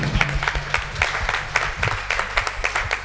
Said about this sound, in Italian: E facciamo un grande applauso alle nostre ragazze!